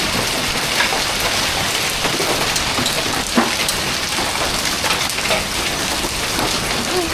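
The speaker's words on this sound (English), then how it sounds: "I don't think I've ever seen hail this bad." A heavy hailstorm pelts down in a dense, steady roar of impacts, loud and continuous throughout, with a few sharper hits standing out and no voices.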